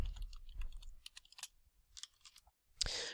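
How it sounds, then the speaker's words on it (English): Answers are typed on a computer keyboard in a short, quiet flurry of clicks and taps, close by and uneven, ending in a brief louder rustle. "you can go ahead and type your answers for station 1 in this box right here"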